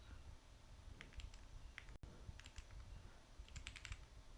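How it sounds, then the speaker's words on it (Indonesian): Faint bursts of keystrokes as commands are typed on a computer keyboard, quick clusters of clicks separated by short pauses. "kita ketik"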